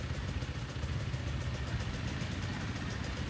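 A two-stroke racing motorcycle with a big polished expansion pipe idles steadily, its dense, rattly engine note running continuously and close by with no talking.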